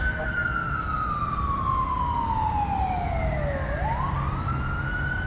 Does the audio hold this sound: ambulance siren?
yes